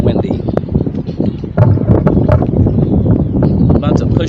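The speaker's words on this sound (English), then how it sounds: "real windy." Strong wind blasting a microphone on a river while kayaking on the Little River in East Tennessee, a loud continuous roar and buffeting with a voice talking over it.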